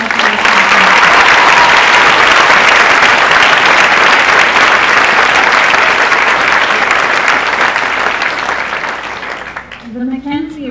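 Loud, sustained audience applause fills a school closing day ceremony hall, steady for about nine seconds before tapering off as a speaker's voice begins at the end.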